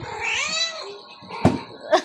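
A cat gives one drawn-out meow close by, followed by two short, sharp clicks or taps.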